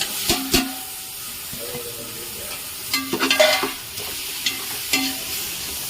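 Tomatoes with salt being sautéed for prawn biryani, with distinct clanks and scrapes of a spoon against a metal pot in short bursts over a low sizzle, close and clear.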